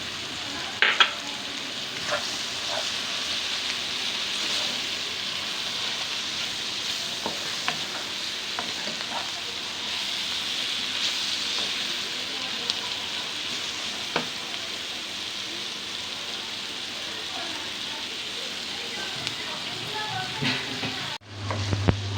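Tomatoes fry in a pan for chicken karela, a loud, steady sizzle and crackle with occasional stirring scrapes, close and continuous throughout, with no talk.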